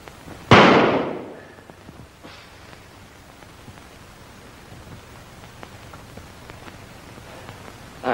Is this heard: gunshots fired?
yes